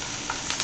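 Chickpeas and onions sauté in three tablespoons of oil, giving a steady close hiss and sizzle with a few soft stirring scrapes, no voices.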